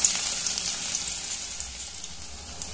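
Soft, steady sizzling of cumin and small onions frying in hot oil, with faint crackles and pops scattered through the hiss.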